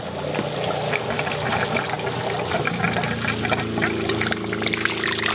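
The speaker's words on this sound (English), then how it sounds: "we've now got water coming out of the pump" A 12V water pump in an off-grid caravan filtered drinking-water pump box runs steadily while water pours from a hose in a continuous rushing stream, a constant hum beneath the flow throughout.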